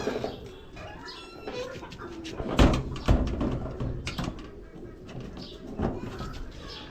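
Pigeons coo softly and steadily inside a fancy pigeon farm while a door creaks and bumps open with a couple of sharp knocks, close by, with light rustling throughout.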